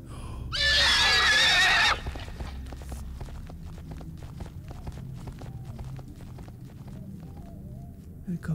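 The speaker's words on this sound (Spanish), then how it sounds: "El caballo." A horse neighs loudly in the video game Silent Breath, one long shrill whinny near the start, followed by quieter shuffling and clicking sounds.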